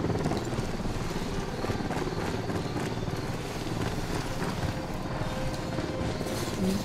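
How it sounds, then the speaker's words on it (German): Helicopter rotor noise from the video game Ghost Recon Wildlands, a steady broadband thrum that holds at an even level throughout, with no talk over it. "Höre ich da schon wieder einen Hubschrauber?"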